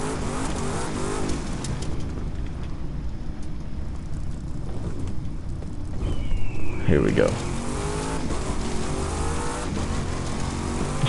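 A race car in The Crew 2 drives with a constant engine drone, a rising pitch sweep and a brief tire squeal midway, while a player talks over the game audio.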